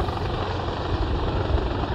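Military helicopter of a special forces squadron flying during a special operations exercise, a steady, loud rotor and turbine roar with constant broadband rumble and no pauses.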